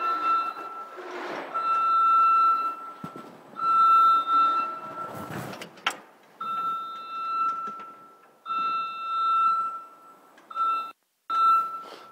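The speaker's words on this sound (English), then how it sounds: "the loud buzzing noise of the motion alarm" An Aichi SV3246C scissor lift's motion alarm sounds a steady electronic buzz in repeated bursts of varying length, broken by brief gaps and a few clunks, with drive motors humming underneath.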